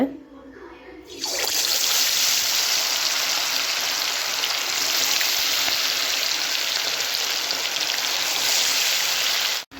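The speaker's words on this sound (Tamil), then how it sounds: "ஆயில் சூடாகிடுச்சு இப்போ நம்ம இதில் ஒரு ஒரு விங்ஸாக நம்ம பார்த்திங்கன்னா எடுத்து போட்டுக்கலாம்" Chicken wings dropped into hot oil in a kadai over a medium flame set off a loud, steady, close hiss and crackle that runs unbroken after a brief quieter start.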